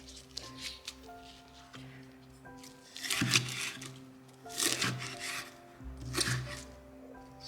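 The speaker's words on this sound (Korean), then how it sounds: "줄기는 잘라놓고요." Alpine leek (myeongi) stems being cut with a knife on a board give a few soft, crisp slicing and rubbing strokes close by, over steady background music.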